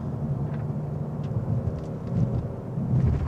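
A 2022 Kia Stinger GT2 engine drones steadily with broad low rumble, rising slightly in intensity toward the end as it accelerates through an automatic upshift.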